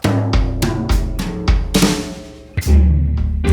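Blues electric guitar riff with a syncopated rhythm, played loud and close as a series of plucked chords and notes with sharp attacks, ringing alone without talk.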